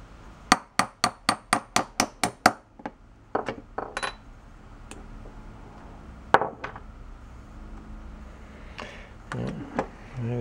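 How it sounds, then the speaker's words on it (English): Steel hammer tapping a pin out of an old Poulan Pro riding mower: a quick run of about eight sharp, evenly spaced metallic strikes, then a few scattered taps and one louder clank, close to the microphone with faint shop background. "I gotta get something to tap that pin out."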